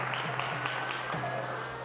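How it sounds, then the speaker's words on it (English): Audience at an ISKCON temple gathering applauding a devotee, a dense sustained clapping from a roomful of people with scattered sharper claps, steady throughout at moderate loudness. "if you could give please a big round of applause for that devotee"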